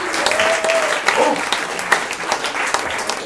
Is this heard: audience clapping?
yes